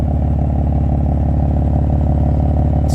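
A new BMW M3 in Sakhir Orange with an upgraded exhaust idles up close, giving a loud, even, steadily pulsing burble with no revving.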